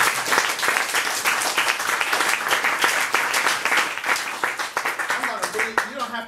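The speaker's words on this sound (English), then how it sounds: "you don't have to clap after everyone" Audience applause follows a poetry reading, dense, sustained clapping from a room full of listeners that thins toward the end.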